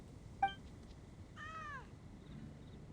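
A cat in the video game Genshin Impact gives a single short meow, followed by a longer, drawn-out mew, both fairly faint against a quiet background.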